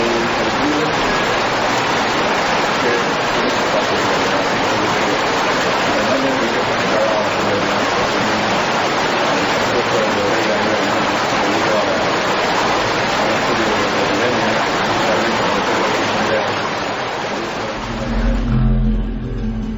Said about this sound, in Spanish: la fuerza del río es tan poderosa que se nos lleva casi la voz de nuestro amigo